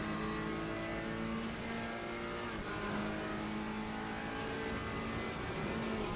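Ferrari race car in Assetto Corsa Competizione at Brands Hatch, its engine holding a steady high-revving drone at close range that runs unbroken throughout, with no talking.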